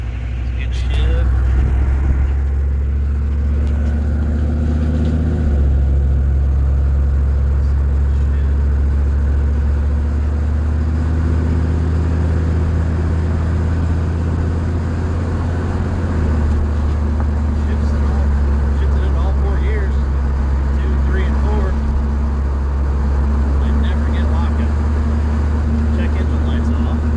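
A 1992 Chevy truck with a 6.5 Detroit diesel and 4L80E transmission drives along, its engine droning steadily with shifts in pitch as gears change; a check engine light is on, and a person talks over the engine noise.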